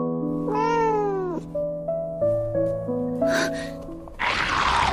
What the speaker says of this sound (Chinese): 这里怎么会有一只猫啊？